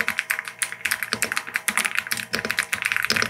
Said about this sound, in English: So here's the typing ASMR.